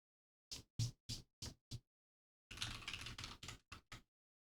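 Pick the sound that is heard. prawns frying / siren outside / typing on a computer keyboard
typing on a computer keyboard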